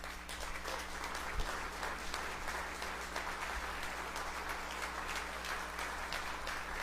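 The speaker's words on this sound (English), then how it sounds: "I appreciate you beating me to the applause because I was going to demand it if you didn't do it." Steady applause from an audience at a downtown partnership's annual meeting, a continuous wash of clapping with no talk over it, heard from within a fairly large room.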